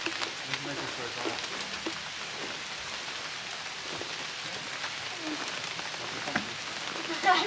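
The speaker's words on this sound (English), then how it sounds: "And it's raining." Steady rain falling outdoors at a provincial park, a constant hiss of drops with a few louder spatters and some faint voices underneath.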